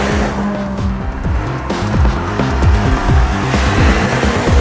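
A BMW XM SUV with an 8-speed gearbox accelerating hard, a loud, steady engine roar climbing through the gears with rising and falling harmonics and brief dips at shifts, continuous with no talk.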